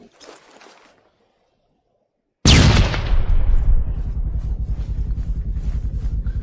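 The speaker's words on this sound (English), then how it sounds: "throwing flashbang in" A flashbang grenade bangs during a close-quarters breach drill: one sudden, very loud near blast after a hushed pause, followed by a long ringing tone and rumbling decay, with faint voices before it.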